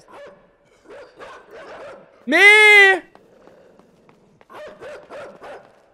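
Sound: dog barking in video game Inside

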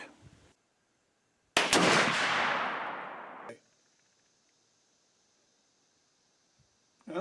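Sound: Winchester X-150 muzzleloader rifle firing a shot

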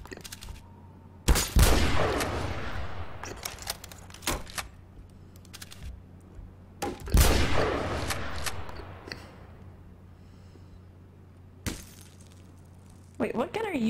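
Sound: gunfire in a video game, Intervention sniper rifle

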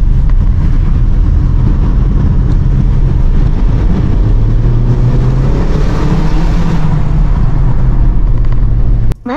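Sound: Lexus UX 2-litre inline-four engine accelerating in sport mode

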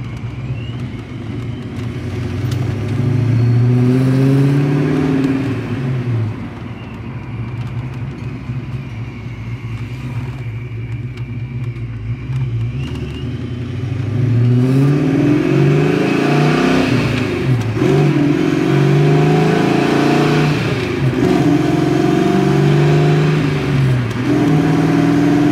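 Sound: Ram truck engine revving while driving with hydraulic clutch

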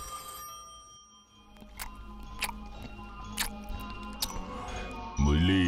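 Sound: telephone ringing

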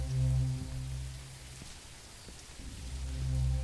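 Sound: rain falling in the video game MEAT

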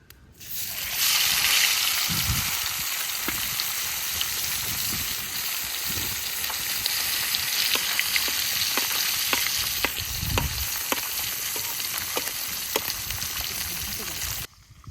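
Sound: fish frying in spiced oil

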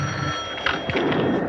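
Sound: telephone bell ringing

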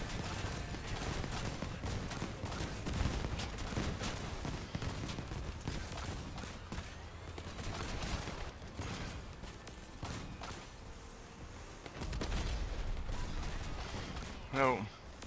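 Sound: gunfire from a video game (Leviathan Wars)

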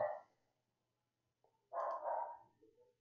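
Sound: distant dog barking

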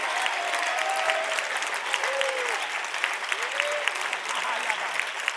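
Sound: congregation clapping hands

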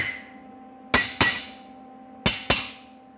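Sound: hammer striking Harbor Freight cast iron anvil

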